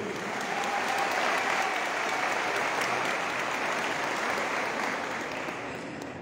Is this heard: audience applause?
yes